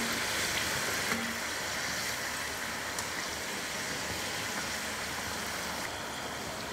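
Somas pastries deep-fry in hot oil with a steady, dense bubbling sizzle that stays even throughout, broken by a few faint light clinks as oil is spooned over them.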